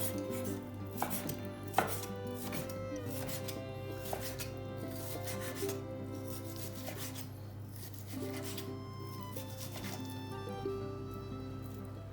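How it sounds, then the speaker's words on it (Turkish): Repeated knife chops on a cutting board as chicken is cut into small cubes, steady and close, over a constant low hum with no talking. "küçük küçük doğrayalım"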